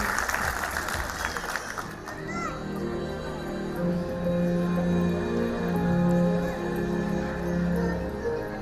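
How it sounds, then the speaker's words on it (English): Parents applaud in a school hall at an annual day event as young children come on stage, an opening burst of clapping and children's voices fading into a sustained musical tone with softer crowd murmur. "Big applause, parents."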